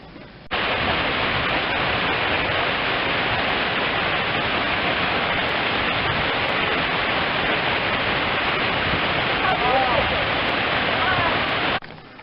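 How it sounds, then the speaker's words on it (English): A waterfall in Costa Rica pours steadily as dense, loud broadband rushing water, constant and unbroken from start to finish with no voices over it. "today's clip is Mom's waterfall."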